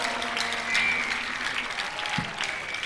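A congregation clapping during a church prayer service in Abuja, a short burst of moderately loud crowd applause with faint voices underneath.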